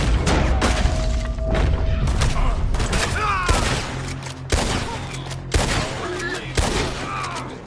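Gunfire in a PS4 video game, repeated loud bursts and booms in quick volleys, close and dense, with a few brief gaps between salvos.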